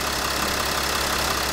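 Engine of a used Kia Mohave with about 200,000 km and a worn drive belt, idling in a steady close hum with a continuous hiss and whine over it.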